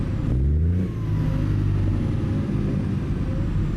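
Kenworth W900 truck with a Cummins 870 engine in American Truck Simulator, driving in a winter blizzard in BC, its deep engine rumbling and revving, pitch dipping briefly at a shift then holding a steady loud drone.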